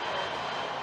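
Steady, broadband roar of a C-17 Globemaster cargo plane's engines, continuous and even throughout with no voices.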